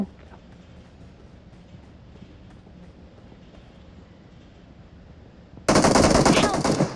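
Sudden loud burst of automatic gunfire from the PUBG Mobile battle game erupts near the end, a dense rapid rattle that follows several seconds of low, quiet game ambience.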